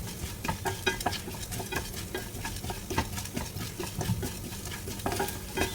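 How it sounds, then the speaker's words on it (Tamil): Black pepper and cumin dry-roast over a low flame, giving a dense rattling scrape as a spoon stirs the seeds around the pan in quick, uneven strokes. "மிளகு சீரகம் ரெண்டு சேர்த்துட்றேன் இது வந்து சின்ன தீயில் வச்சு இது நிதானமாக நீங்கள் வறுத்தா தான் நல்லா வரும்"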